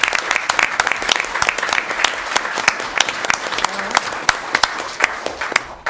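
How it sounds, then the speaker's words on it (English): At a city commission meeting, an audience applauds family members with brisk, continuous clapping, several sharp individual claps standing out over the steady crowd sound. "let's give the family members a round of applause for getting that done successfully"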